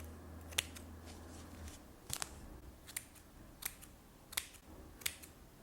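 Scissors snipping paper turkey feathers, a series of about seven crisp, quiet snips spaced roughly every half to one second over a soft background hum.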